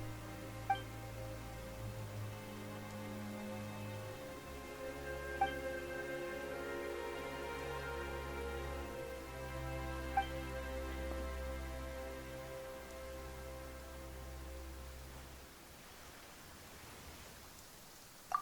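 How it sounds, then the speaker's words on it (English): Sudden rain in the Genshin Impact video game falls as a steady, soft hiss beneath sustained orchestral game music, and the downpour thickens into a fuller wash near the end. "Why is it raining all of a sudden?"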